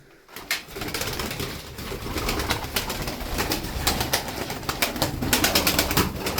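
Sütbeyaz crested pigeons cooing in a loft, a dense continuous murmur of overlapping coos and soft rustling from several birds nearby, with no talk.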